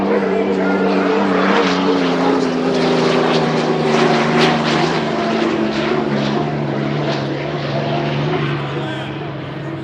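Unlimited hydroplane race boats at full throttle in a piston versus turbine final heat, a loud sustained droning engine roar with a steady pitch that fades slightly at the end, with an announcer talking over it.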